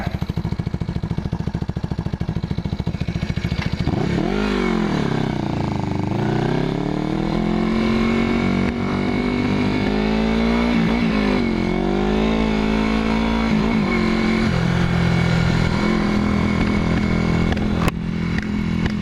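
A 1981 Yamaha XS400 Heritage motorcycle engine, long left sitting in a garage, runs loud and close with the choke off, rising and falling through several revs with a rough, sputtering edge and a sharp pop near the end.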